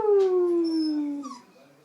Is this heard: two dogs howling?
yes